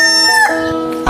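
A loud, close, strained crowing cry of a chicken or rooster lasts about a second, with a rough broken-off ending, heard in a comic drama scene.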